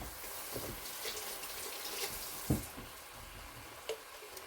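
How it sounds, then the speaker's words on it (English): A spoon is rinsed under a running kitchen tap, a steady broadband water hiss lasting throughout, with a couple of brief clinks or splashes standing out, close by and without talk. "And let me rinse that off."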